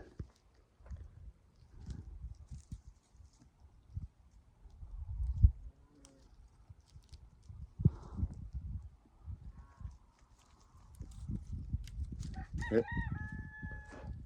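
A rooster crows at a distance toward the end, a rising call set against low rumbling background noise and scattered thumps.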